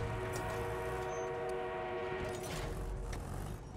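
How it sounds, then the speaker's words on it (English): An armored train in the Battlefield 1 video game gives a faint, steady rumble with a sustained, whistle-like tone and light clicks, heard distantly throughout. "We have an armored train en route."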